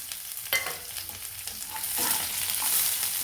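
Chopped onion fries in a pan, just after coconut was roasted in it, with a close, continuous hiss. The sizzle swells louder in the second half as the pieces are stirred and scraped around.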